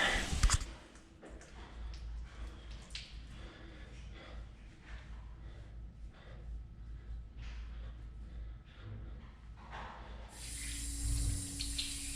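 A home shower runs steadily: a continuous broadband hiss and splash of water lasting many seconds, close and even, with a few small knocks and movements.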